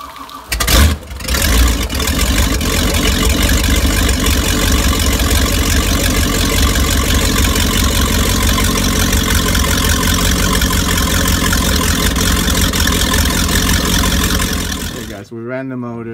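Twin Mercruiser 5.7 liter 350ci V8 boat engines run at a steady idle during winterizing, a loud, close, continuous drone that cuts off abruptly near the end.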